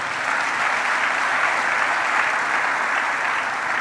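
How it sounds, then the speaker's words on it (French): A church congregation applauds together during a sermon, a steady dense wash of clapping that holds evenly from start to finish with no talk over it. "Acclamons la parole,"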